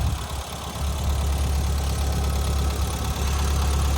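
A 1990 Renault 5 GT Turbo engine idles steadily with a low, even rumble, close up and constant throughout, no voices.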